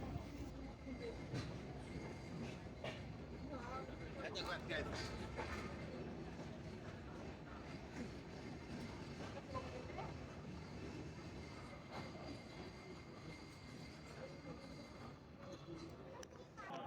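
The Padma Express passenger train rolls into Sardah Road station, with a continuous rumble, wheel clatter and faint squeals heard from inside the carriage, and a voice speaking over it.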